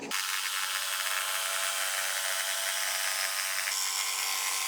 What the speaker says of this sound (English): Now you're gonna grab your jigsaw and cut this triangle out.